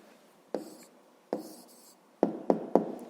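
A pen writes an answer to a fifth-grade maths word problem on paper, with several close, scratchy strokes in quick bursts and short pauses between them; no one speaks.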